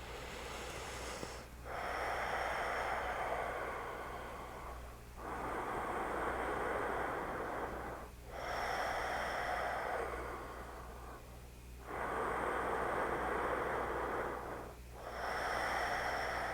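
Slow, steady breathing held through a yoga twist, with six long, soft, airy breaths alternating in and out, each separated by a brief pause, close and alone over a faint low hum.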